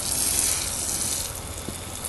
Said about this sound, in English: I'm going to water this entire grouping, and you can see I'm just going to rotate around, letting the water soak in